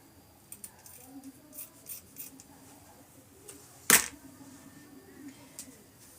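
Scissors snipping ribbon ends while a patriotic wreath is being made: a few faint, close snips and clicks, with one sharper snap in the middle, in a quiet room.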